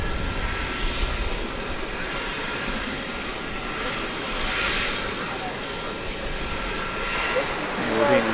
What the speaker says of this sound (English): this is an Airbus A300 going to Chicago Rockford International Airport